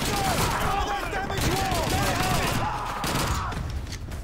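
Dense, continuous German MG42 machine-gun fire and other gunfire crackle through a chaotic Call of Duty 2 battle, loud and close, with shouting voices mixed into the din.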